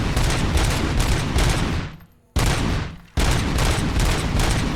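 A rapid-firing shotgun-like weapon in RoboCop: Rogue City, a video game, blasts out dense, loud bursts of gunfire, broken by two short pauses before the shooting resumes at full force.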